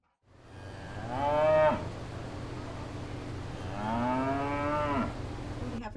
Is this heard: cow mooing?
yes